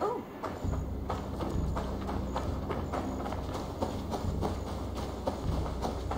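Rhythmic clip-clop of a horse's hooves running in Assassin's Creed Valhalla, a fast steady beat close by over a low rumbling game backdrop that runs from start to finish.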